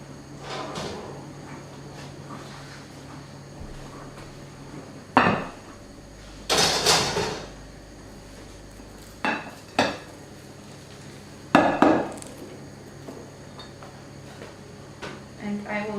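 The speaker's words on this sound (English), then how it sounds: "So I think my gołąbki are now cooked. Let me take them out of the oven." A baking dish of gołąbki, Polish stuffed cabbage rolls, is taken out of a kitchen oven, with several loud clanks of dish, rack and oven door against a quiet background.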